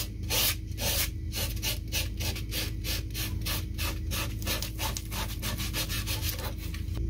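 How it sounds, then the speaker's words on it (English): 180-grit sandpaper rubs back and forth by hand in a steady rhythm of short, even strokes, close up with no talking. "So I'm going to do some hand sanding with 180"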